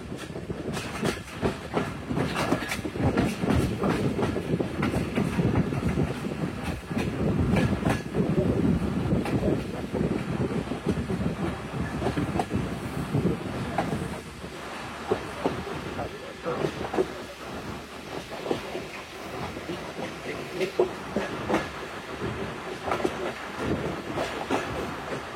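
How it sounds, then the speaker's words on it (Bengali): Joydebpur commuter train crawling through Hirashram station, a low rolling rumble with rhythmic clickety-clack of wheels over rail joints, fairly close, easing slightly in the later part, with voices faintly present. "আমাদের ট্রেনটি ধীর গতিতে হীরাশ্রম রেল স্টেশন থ্রু পাস করে গেল"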